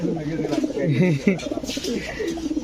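Lahori pigeons coo close by in soft, rolling repeated phrases, with a voice talking faintly underneath.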